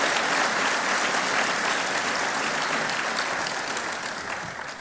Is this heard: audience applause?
yes